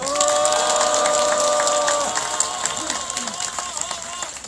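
A crowd at an outdoor protest rally against a THAAD missile deployment applauds and cheers, a loud burst of clapping that fades over a few seconds while a voice carries on a loudspeaker.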